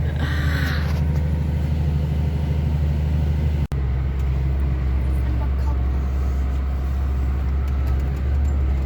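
A truck on the road to Kazıkbeli plateau in Gümüşhane gives a constant loud engine rumble and road roar from inside the cab, with a brief dropout midway and people talking over it.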